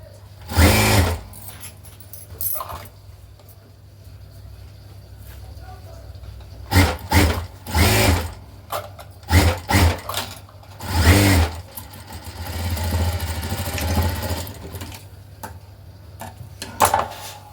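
A sewing machine stitches the hem of a blouse in several loud bursts of fast, rattling stitching separated by pauses, with quiet handling sounds in between.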